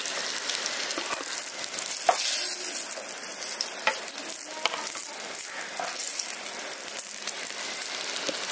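Fried brinjal pieces are lifted out of a pan of hot oil as a steady, loud sizzle and crackle runs throughout, with occasional light scrapes and taps of the utensil against the pan.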